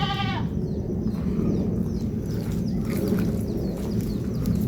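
A goat at a livestock sale lets out one short, loud bleat right at the start, then steady rustling and farmyard background noise continue with no further calls.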